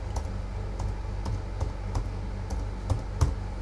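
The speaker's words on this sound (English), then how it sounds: "just type document." Typing on a computer keyboard while working on a document: a steady run of light keystroke clicks with occasional sharper taps, close and fairly quiet over a low hum, no talking.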